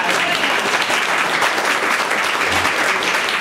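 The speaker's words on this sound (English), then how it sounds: "So now I have, yes, another round of applause." Loud, dense applause from a large overflow audience at an author talk, continuous clapping filling the whole moment without letup.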